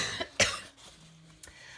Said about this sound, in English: got to go cough some more